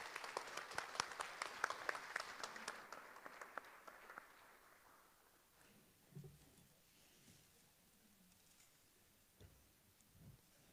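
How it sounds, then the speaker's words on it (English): An audience applauds at a live talk event. Dense clapping in the first few seconds quickly thins to a few scattered claps, leaving a quiet room. "one more round of applause for these guys"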